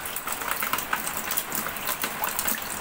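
Water pours through a leaking roof in a steady, dense rush like a running shower, filling the whole stretch without pause.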